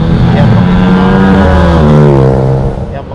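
A motorcycle fitted with a loud racing or modified standard exhaust revs hard on a night street in Cianjur, a dense, roaring engine note rising and holding for a few seconds close by.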